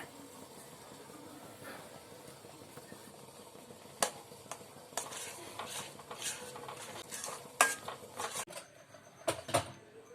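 Kunafa batter being mixed with cheese in a bowl, a steady soft stirring scrape broken by several sharp clinks of a utensil against the bowl, close and without talk.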